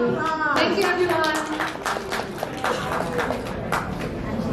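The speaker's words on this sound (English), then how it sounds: "Give her a round of applause" Audience applause for a Miss World Philippines contestant, a steady wash of clapping hands close by that fills the whole stretch, with a host's voice briefly over it at the start.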